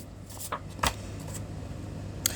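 Tarot cards shuffled in a quiet room: a few soft riffling bursts and one sharp snap of cards, close and faint over low background hum.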